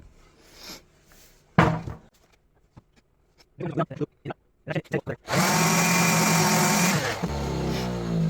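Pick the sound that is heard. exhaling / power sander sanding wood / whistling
power sander sanding wood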